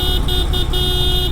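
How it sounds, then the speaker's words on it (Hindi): Horn of a Harley-Davidson Breakout motorcycle sounding in three short, loud bursts in close succession over a steady low engine idle. "ये है कुछ इसका हॉर्न भाई"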